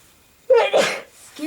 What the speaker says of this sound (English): Uh-oh, I feel a sneeze.